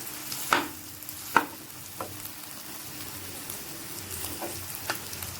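Chicken fry for biryani stirred in a pan: a soft continuous sizzle with a few sharp scrapes and clicks of the spoon at irregular intervals.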